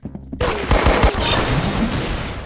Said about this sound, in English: Weirdest gun ever.